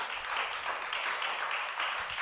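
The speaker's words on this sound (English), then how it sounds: "Round of applause for the wonderful panel." Brief applause from the audience at a World Economic Forum panel on crypto, a short burst of steady clapping from a moderate crowd lasting about two seconds.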